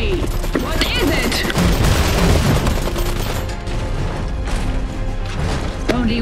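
Continuous gunfire and explosions fill a battle in the video game Iron Harvest, dense bursts and crashes running loud throughout, with game voices calling out faintly beneath.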